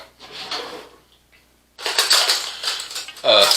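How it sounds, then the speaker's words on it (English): Brussels sprouts clatter and rattle as they are tipped and spread across a non-stick pie pan, in short clustered bursts of knocks close by, with a voice speaking in between. "And I want to just spread these Brussels sprouts out."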